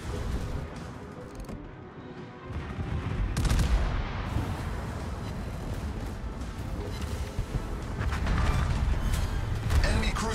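Secondary guns on the battleship Michelangelo in World of Warships fire in dense, rolling volleys, heavy booms and mechanical clatter overlapping continuously and loudly throughout.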